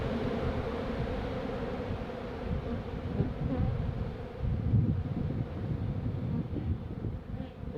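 Honeybees drone in a steady, close swarm around an open beehive during a January hive inspection, a continuous buzzing hum with light wind noise and no talk.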